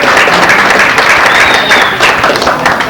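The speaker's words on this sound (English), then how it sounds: "I think we'll give her a round of applause just for driving that far." An audience at a candidate night bursts into sustained, loud applause that fills the room evenly from start to finish, a dense wash of clapping with a few faint voices underneath.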